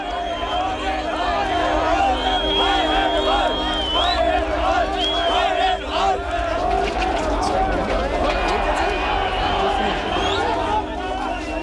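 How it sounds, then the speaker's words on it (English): An angry crowd of protesters gathers outside official buildings in East Berlin, a dense, continuous roar of many shouting and chattering voices with whoops and yells, loud and close throughout. "Angry crowds gather outside official buildings"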